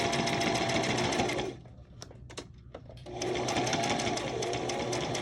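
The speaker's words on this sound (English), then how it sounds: "I'm going to stitch all the way around the lace." A sewing machine stitches around lace with a loud, fast mechanical whirring and rapid needle rhythm. The run pauses briefly in the middle with a few light clicks, then starts again, close up and without speech.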